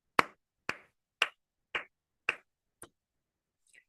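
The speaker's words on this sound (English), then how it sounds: "So take your hands and clap with me." Six sharp, separate hand claps ring out at an even, unhurried pace in a quiet room, then one much fainter clap follows after a longer gap. Each clap is crisp and close, and no voices are heard.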